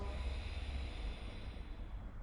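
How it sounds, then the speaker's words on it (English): A slow, steady ujjayi exhale through the nose with the back of the throat closed, a close, soft, continuous breathy rush lasting a couple of seconds without a break. "exhale out through the nose, closing the back of the throat"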